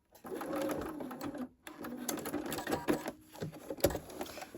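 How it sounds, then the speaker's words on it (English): A sewing machine top stitching fabric for a pillow, running in close, steady mechanical bursts with a brief pause partway and a tapping stutter near the end, no talk over it. "So this is top stitching here because I'm on the right side of the fabric"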